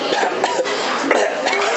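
A voice imitates a single hard, harsh cough, a dense rasping burst that stays loud and rough for under two seconds.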